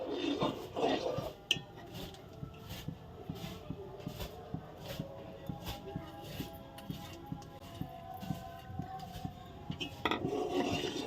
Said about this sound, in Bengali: এবার ভালো করে নাড়তে হবে সবসময় নাড়তে হবে যাতে তলায় লেগে না যায়